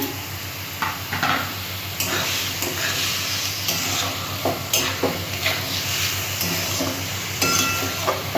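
Boiled banana flower, soaked chickpeas and spices are sautéed in a pan, a close steady sizzle broken by repeated rhythmic spatula scrapes and stirs, with a faint hum underneath.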